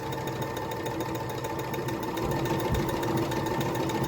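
Sewing machine stitching fabric for unpaper holiday gift bags, a steady continuous mechanical whir with rapid needle rhythm, close and fairly loud throughout with no talking.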